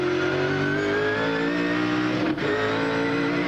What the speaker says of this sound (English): Awesome sound of that Caterpillar Ford